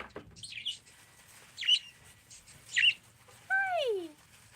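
A pet bird sings indoors in a few short bursts of chirps and whistles, ending in a clear descending whistle, with soft background noise between phrases.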